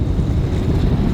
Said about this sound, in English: it's just a little windy today